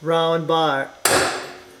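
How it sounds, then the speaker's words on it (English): A person speaks briefly, then a single sharp metallic hammer strike rings out on a center punch, marking holes for drilling on a 2003 Polaris Ranger 6x6, and slowly decays. "you're going to want to center punch these holes"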